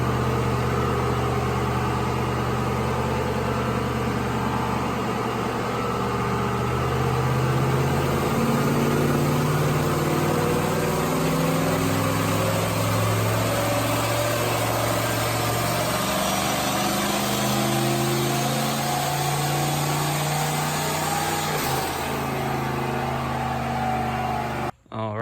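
A turbocharged Toyota Sequoia runs on a dyno in a steady, loud, continuous engine drone with a rough low rumble, holding nearly constant for the whole stretch before cutting off abruptly at the end.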